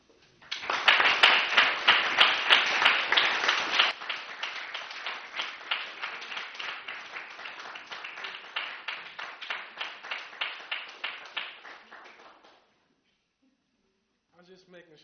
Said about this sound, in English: I was just making sure she got the applause that she deserved.